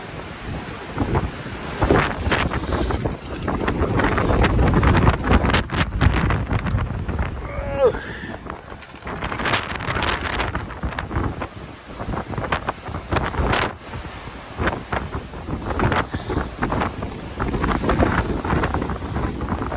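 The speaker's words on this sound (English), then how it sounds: "A little windy out here." Strong wind buffets the microphone in loud, gusting rumbles throughout, with a brief quieter lull midway before the roaring gusts return.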